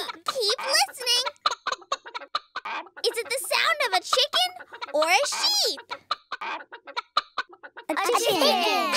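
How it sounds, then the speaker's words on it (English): Chicken clucking repeatedly in short bursts, close and fairly loud, with a brief busier squawking passage near the end. "Is it the sound of a chicken or a sheep?"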